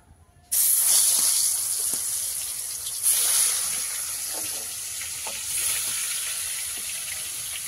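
Fish slid into hot oil in a home kitchen pan sets off a sudden loud, steady sizzle and hiss that holds on, swelling briefly twice as pieces settle, with faint pops underneath.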